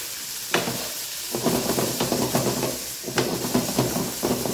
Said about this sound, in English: Let's get these mushrooms cooking.